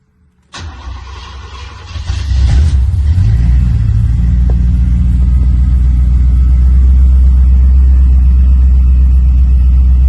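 Cold start of a 1986 big block Buick Regal Limited: a starter cranks briefly, the engine catches with a loud rumble, then settles into a deep, steady idle heard up close.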